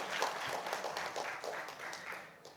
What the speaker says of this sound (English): Let's give a big applause to Professor Liu